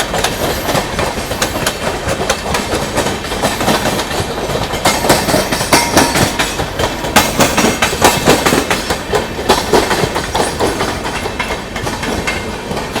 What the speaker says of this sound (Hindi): यह है दोस्तों आप लोगों की प्रतापगढ़ की ओर जाने वाली पद्मावत एक्सप्रेस